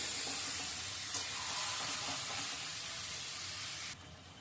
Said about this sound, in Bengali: এবার ভালো করে নেড়ে ছেড়ে একটু ভেজে নিই